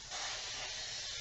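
A short, close hiss of baking spray mixed with flour and grease coats a pan in one steady burst.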